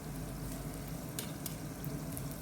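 Butchi, sesame rice balls with a cheddar cheese filling, fry in hot oil with a steady, close sizzle and a few sharper crackles, heard alone without any voices.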